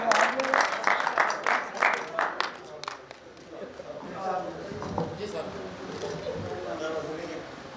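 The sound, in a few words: audience applause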